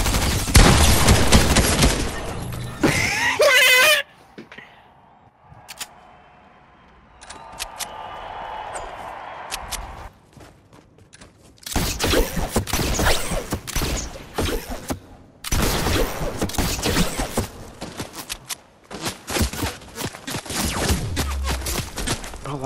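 A gun fires in a video game on a creative map, with loud, rapid bursts of shots and booming impacts. A long quiet stretch with faint background noise follows, then heavy, sustained firing resumes and runs to the end.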